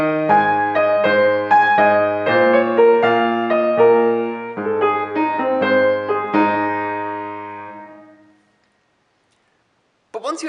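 A piano plays a song, worked out by ear as simple chords and melody in a steady, close, clear tone for about eight seconds before fading to silence.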